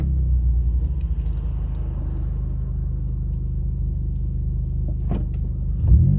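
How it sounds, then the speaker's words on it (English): Steady low engine rumble and road noise from inside a car stuck in traffic, continuous and fairly loud, with a faint click or two and a swell near the end. "I'm caught up in the middle of traffic."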